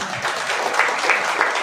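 Audience applause at a gathering, a steady spread of clapping from a crowd at moderate loudness with a few sharper claps standing out.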